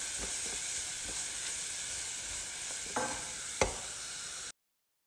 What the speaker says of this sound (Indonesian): Ini kita tumis dulu bumbu halus yang tadi kita